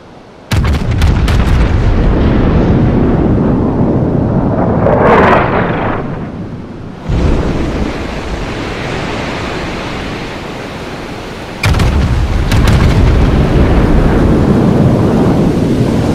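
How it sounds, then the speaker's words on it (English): Naval guns firing in the free-to-play warship game World of Warships: several loud, heavy booming salvos with sharp onsets, each trailing into a long rolling rumble, with no talk. "the awesome gun sound effects are from the free-to-play naval game World of Warships"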